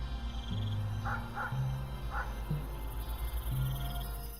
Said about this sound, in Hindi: गीदड़, कुत्ते की आवाज आ रही है